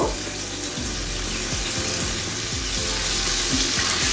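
Chicken meatballs fry in oil in a pan, a loud, dense, steady sizzle with a repeating low rhythmic thumping underneath, no voices.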